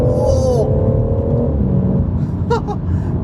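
A BMW M140i engine in sport mode revs and pulls hard close up, its pitch climbing and dropping with quick paddle-shifted gear changes, steady rumble throughout.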